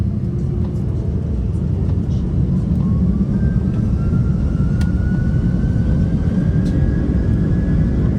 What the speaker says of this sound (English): let's listen closely to the takeoff sound